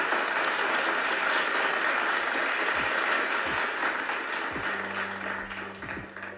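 A clapping sound effect played over a livestream, a steady dense wash of applause-like claps running throughout, with a few low tapping thuds near the end.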